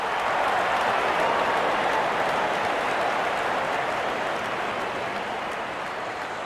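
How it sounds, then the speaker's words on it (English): Stadium crowd in a Real Cricket 24 video game roaring and applauding steadily as a dense, continuous wash that slowly fades slightly, with no talk. "The crowd is enjoying every bit of this action."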